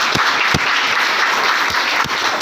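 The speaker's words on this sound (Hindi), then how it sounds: "एक बार तालियां बजा दीजिए।" Audience applause at a public talk, a steady dense wash of clapping from a crowd with a few sharper individual claps standing out, continuous throughout.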